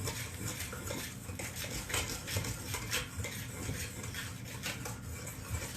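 A pastry blender stirs dry ingredients for dumplings in a bowl, making a continuous close scraping and rubbing with light metallic clinks against the dish, steady throughout.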